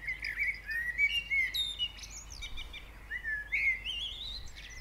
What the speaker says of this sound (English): that experience of being able to hear the live bird song